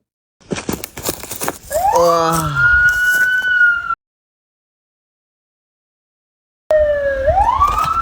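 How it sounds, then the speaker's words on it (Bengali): A loud police siren wails up and down close by, cuts out for a few seconds, then starts again with a rising wail. "কি হলো পুলিশের সাইরেন শোনা যাচ্ছে কেন"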